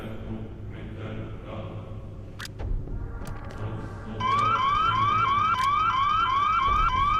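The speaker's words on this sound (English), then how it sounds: "you can actually go ahead and pull this fire alarm" A fire alarm in Hitman: Blood Money starts midway, a loud rapidly repeating electronic whoop that keeps cycling to the end over quiet game ambience, after a few brief clicks.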